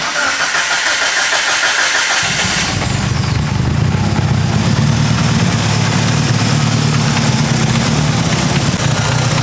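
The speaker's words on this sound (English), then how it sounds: "I'm gonna let you guys hear though how crazy these G-Series sound." A tuned Mitsubishi Evo 5 engine fitted with a G-Series turbo starts up after a few seconds of broadband noise, then settles into a loud, steady, close idle that runs to the end.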